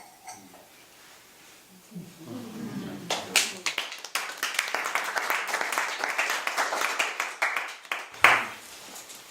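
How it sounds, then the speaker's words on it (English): Audience clapping at a poetry reading, starting after a spoken line and a short pause, then building into a close, dense run of claps that fades out with a sharp final burst. "You guys are so nice to clap"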